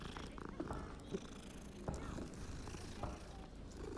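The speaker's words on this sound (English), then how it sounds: "You can pet the cats." A cat purring while being petted in Hogwarts Legacy: a soft, steady, close purr that runs throughout at low volume, with a faint background hum.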